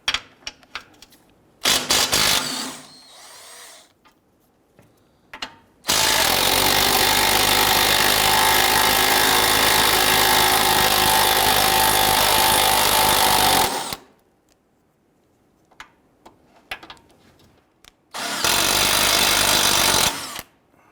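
A power tool loosens 14mm engine mount nuts on a 2012-2017 Toyota Camry, with short bursts early and late around one long, steady, loud run, separated by quiet gaps.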